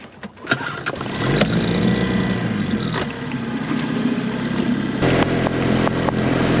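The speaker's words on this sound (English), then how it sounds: "our outboard out at the end of the season, and it started up just great" A sailing yacht dinghy's outboard engine catches with a sharp start and then runs in a steady, fairly loud, rough drone, shifting in pitch near the end.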